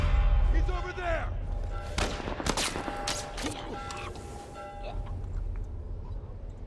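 Gunfire in The Last of Us Part I: a rapid burst of loud shots in quick succession, with rumbling background noise and a voice heard between the blasts.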